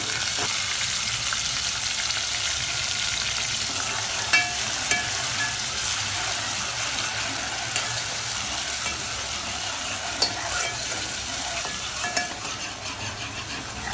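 Onion paste fries in a pan after garlic for lasooni chicken, giving a continuous close sizzle and crackle with a few sharper pops and stirring scrapes, no voices.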